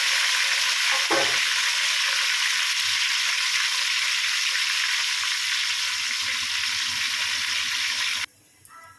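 Sliced onions and four green chillies hit hot oil in a pan as a tempering for a korameenu fish curry. A sharp, loud burst of sizzling follows with a stirring thump, settling into a steady close-up crackle before cutting off abruptly.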